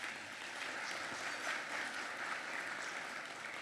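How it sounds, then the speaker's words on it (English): A luncheon audience at a women's awards event applauds its sponsors, a steady, dense wash of many hands clapping at moderate distance, holding even throughout with no voices over it. "Please give them a round of applause and thank you."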